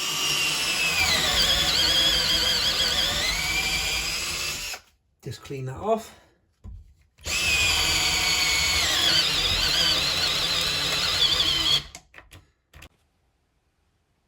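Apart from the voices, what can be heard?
Galax Pro cordless drill running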